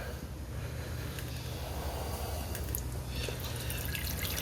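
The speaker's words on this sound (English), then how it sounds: "I'll carefully carry this over to a beaker and pour some off into the beaker." Liquid poured from a flask into a beaker during gold recovery from IC chips, carrying fine gold powder; a steady, close trickle and splash runs throughout with no talking.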